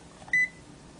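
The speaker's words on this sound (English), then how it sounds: "And then it beeped." A single clear electronic beep from a talking digital multimeter, one short steady tone near the start, loud against a quiet background with no talk.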